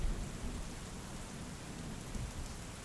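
Steady rain pours down during a storm, a dense continuous wash of droplets close by that keeps up without a break and with no voices over it.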